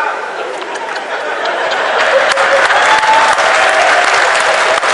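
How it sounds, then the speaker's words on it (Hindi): An audience claps at a comic Hindi poetry recital, a mushaira in Baghpat, with dense, sustained clapping that swells louder partway through, mixed with scattered chuckles and crowd chatter. "ताली तो इसे आप लोग बजा रहे"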